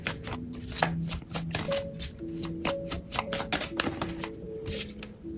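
A deck of playing cards is shuffled close by in quick, crisp riffling bursts and taps, repeating unevenly over several seconds, while a faint voice murmurs in the background.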